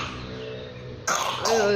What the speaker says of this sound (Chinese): 小咳嗽